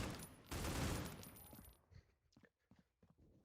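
Gunfire in a five-on-five competitive shooter match, a dense burst of rapid automatic fire with a grenade going off, followed by scattered fainter shots and clicks.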